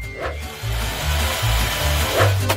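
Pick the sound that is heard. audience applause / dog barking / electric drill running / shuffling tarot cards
electric drill running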